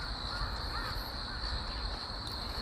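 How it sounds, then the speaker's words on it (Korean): A magpie calls faintly in the distance on a rain-damp mountain trail, a few short harsh notes set against a steady outdoor hiss. "이렇게 까치 소리도 들리고"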